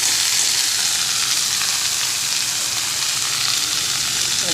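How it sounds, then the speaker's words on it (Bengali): Steamed cauliflower florets tumble into a pan of frying onion and green chilli, giving a loud, steady, close sizzle that holds without a break and has no voices over it. "এবার ফুলকপি ভাপানোগুলো দিয়ে দেব। এই ফুলকপিগুলো দিয়ে দিলাম।"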